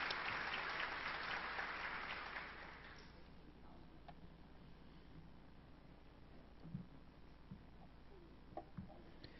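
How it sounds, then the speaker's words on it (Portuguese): Applause from an audience at a training session for local coordinators of the PNAIC literacy program, honoring a teacher. The clapping is dense for the first three seconds, then fades into scattered claps over room noise. "uma salva de palmas a professora"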